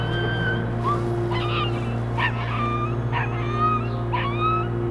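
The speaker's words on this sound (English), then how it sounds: "I think they're all fighting over a puppy." Several dogs yelp, whine and howl in overlapping bursts while apparently fighting over a puppy, set against a steady low hum, with the high cries rising and falling over a few seconds.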